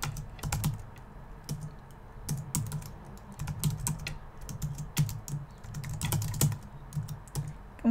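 Keys clatter on a computer keyboard in quick irregular bursts, close and clear, with short pauses between runs of typing and no talking.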